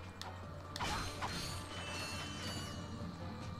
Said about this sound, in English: Ah, the sound of button presses